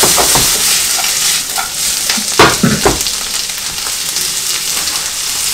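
Tuna and onion fry in a pan while being stirred, a loud steady sizzle broken by a few sharp scraping stirs near the middle, with no talk.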